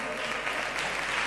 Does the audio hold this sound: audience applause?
yes